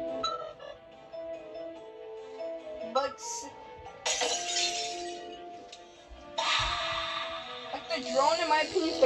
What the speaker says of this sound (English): Busting this glass window and grabbing that key card?